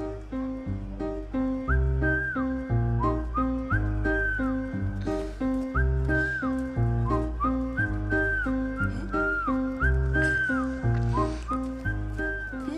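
A person whistles a repeating, sliding tune over steady background music, the whistled phrases recurring every couple of seconds throughout.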